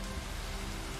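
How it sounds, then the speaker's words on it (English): Steady rain falls in the video game Bugsnax, a dense, even hiss of drops on surfaces that stays constant and close throughout, with no voices over it. "It's raining here too, which is like really adding to the mood."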